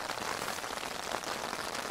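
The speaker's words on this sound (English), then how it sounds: "The rain came on sort of lightish for about 5-10 minutes and then heavy." Heavy rain drums steadily on a tent during a wild camp in the Lake District, a dense, close, unbroken patter with no pauses.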